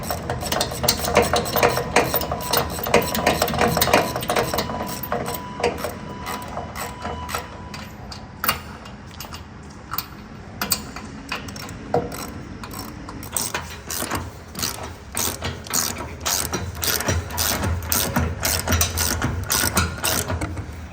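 A hand ratchet clicks steadily as nuts are snugged down on the conservator plate of a substation transformer, with rapid pawl ticks in bursts and some metallic handling, close up with no talking.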